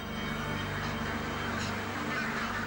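A crowd of ducks packed in a broiler shed on a duck farm honk and quack in a dense, continuous din, heard over a steady mechanical hum.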